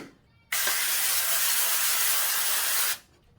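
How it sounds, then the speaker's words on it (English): Vegetable oil cooking spray hisses onto a pan in one steady, close burst lasting a couple of seconds, then cuts off abruptly. "I'm gonna take my vegetable oil cooking spray and I'm gonna spray this whole pan right here."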